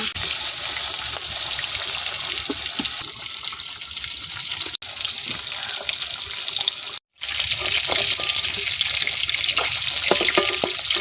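Hilsa fish frying in a pan of hot oil give off a steady, loud, close sizzle that runs without a break, with no voices.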